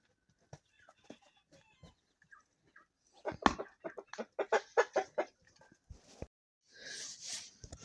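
Chickens cluck nearby in short scattered bursts that build into a busier run of clucks, ending with a brief higher squawk.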